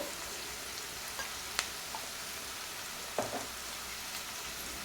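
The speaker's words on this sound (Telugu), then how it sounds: "ఇక్కడ చూడండి ఉల్లిపాయ అనేది వేగిపోయింది కదా" Onions frying in a pan with salt and turmeric give a soft, steady crackling sizzle throughout, with a few faint clicks and light scraping from stirring, quiet and close.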